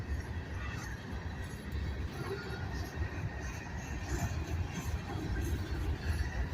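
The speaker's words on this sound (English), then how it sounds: "the trains come through slow enough you can read them" A slow freight train of grain cars rolls past close by, producing a continuous heavy rumble with wheel and car noise that stays steady throughout.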